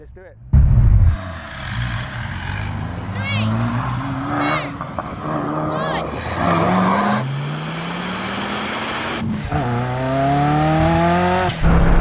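A Ferrari F40 and a Bugatti EB110 drag race: engines roar loudly and continuously, with rising revs, gear changes and tire noise over twelve seconds, while a voice talks underneath.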